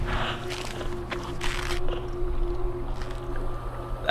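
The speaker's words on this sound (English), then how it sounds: "It sounds like an orca." Orca-like whale call echoing across water in the horror game Among the Sleep, a low, drawn-out tonal cry set against a steady droning ambience, with no talking.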